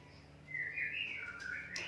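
A white-rumped shama (murai batu) gives a short run of clear whistled chirps, fairly faint and alone over a low steady background hum.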